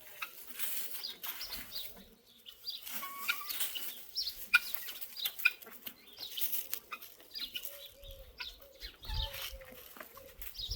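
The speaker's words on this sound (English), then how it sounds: "The chickens are digging holes." Chickens clucking softly while scratching and digging holes in the ground outdoors, with scattered low clucks and small bird chirps at moderate distance, no talking.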